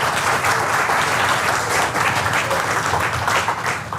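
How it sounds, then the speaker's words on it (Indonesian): An audience claps in a steady, dense stretch of applause, continuous and fairly loud throughout with no voices standing out. "Oh, tepuk tangan."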